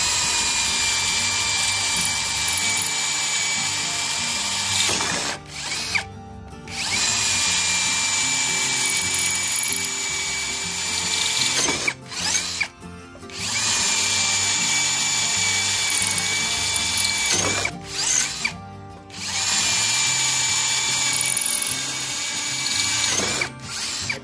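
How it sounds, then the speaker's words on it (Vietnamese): A brushless cordless KINGPRO drill fitted with a 10 mm bit bores into a solid clay brick in plain drilling mode without hammer action, a loud steady whine broken by three short pauses before it spins up again. "Chức năng khoan gạch của con máy, ở đây mình sử dụng là cục gạch thẻ nè"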